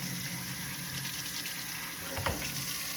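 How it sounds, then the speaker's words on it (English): Running tap water splashes steadily as produce is rinsed off in a kitchen sink, a continuous gushing hiss with a brief heavier splash near the end. "I'm just gonna rinse it off"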